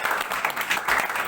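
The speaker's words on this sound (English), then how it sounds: "So a round of applause for Todd." A brief burst of applause rises from the guests at Todd's 40th birthday gathering, a soft, diffuse patter of many hands heard from a moderate distance.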